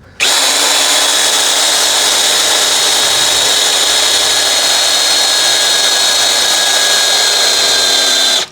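DongCheng DCJZ2090i cordless impact drill boring into meranti wood on speed 1, one loud continuous high whine held for about eight seconds, close up, cutting off abruptly, with no talk.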